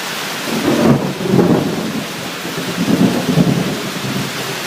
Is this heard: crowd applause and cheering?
no